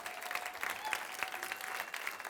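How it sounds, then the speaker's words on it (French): An audience at an improv match claps steadily, a quiet, dense patter of many hands with scattered whistles, sustained throughout at moderate distance. "on leur donne une bonne main d'applaudissement"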